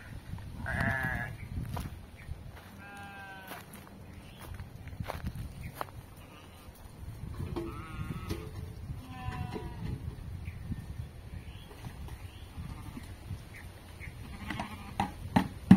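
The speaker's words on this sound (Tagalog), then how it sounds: "Wala nang harang, nakikita na nilang may tupa." Sheep bleat in several short, wavering calls spread across the scene, some near and some farther off, over a low rumble of farm background and occasional footsteps or knocks.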